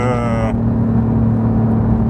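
Porsche 911 fitted with an aftermarket Fab Speed exhaust line, heard from up close as a loud, steady engine drone while driving, with a brief tonal whine at the very start.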